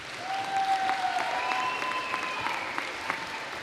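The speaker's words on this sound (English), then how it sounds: "Round of applause." Applause from a crowd in a gym during a North Dakota high school volleyball game between the Ray Jays and the Divide County Maroons: steady clapping at moderate volume, with a thin high tone running over it.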